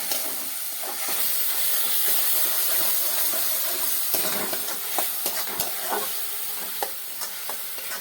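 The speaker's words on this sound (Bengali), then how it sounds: "এবার মশলা বাটা মশলাটা দিয়ে দেবো" Ground spice paste sizzles and fries in hot oil in a wok, a steady close hiss with scattered crackles and spatters as it is stirred; no voices.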